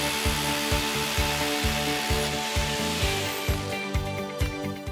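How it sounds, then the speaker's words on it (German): A rotary hammer with an 18 mm bit drills a 100 mm deep hole into concrete, loud and close, with a fast pulsing hammer rhythm and a grinding whine throughout. "Mit dem Bohrhammer und dem 18er Bohrer wird nun ein 100 mm tiefes Loch gebohrt."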